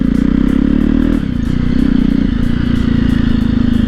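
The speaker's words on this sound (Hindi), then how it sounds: "बाकी इंजन अगर चालू है तो आवाज़ तो कुछ ना कुछ करेगा ही" A Jawa motorcycle engine runs steadily up close with a loud, dense low drone, fine ticking clatter and chain rattle layered over it, dipping briefly about a third of the way through before settling back to an even idle.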